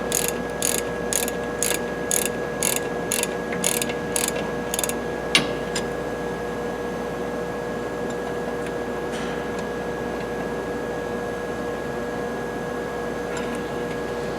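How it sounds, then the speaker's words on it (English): A socket ratchet clicks in a quick series of regular bursts while brake bolts are snugged down, then stops, leaving a steady faint background hum for the rest. "hold a wrench on the back, socket on the front, and tighten them down until they're snug"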